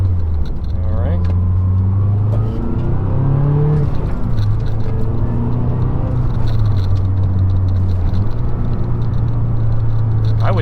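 A 2012 Mazdaspeed 3 engine, just fitted with new motor mounts, hums steadily and rises and falls in pitch as it revs, loud and close throughout, with someone talking over the drone.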